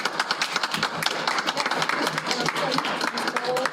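An audience clapping at a school district board meeting, a dense, even patter of hand claps filling the room with no gaps.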